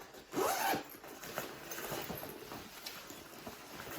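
A sturdy zip on a fabric storage bag is pulled in one quick, loud rasping stroke near the start, followed by soft rustling and handling of the bag.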